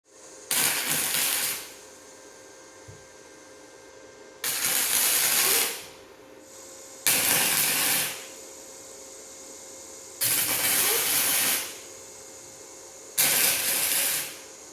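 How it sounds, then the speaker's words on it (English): Tack welding the metal corners of a hydraulic press frame in a blacksmith shop, with five separate bursts of harsh crackling hiss, each lasting a second or two and separated by quiet pauses with a steady background hum. "just tack weld these corners real quick"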